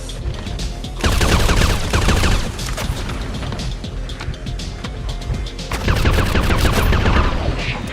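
Rapid gunfire in the video game Crime Boss, loud bursts of automatic shots and crackling volleys that swell and ease over several seconds, with no talk.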